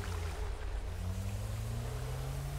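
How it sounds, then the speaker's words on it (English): Boat motor in GTA 5, a loud steady motorboat drone with rhythmic low pulsing and a slowly rising engine tone, alone without talk. "Well, look at this boat go."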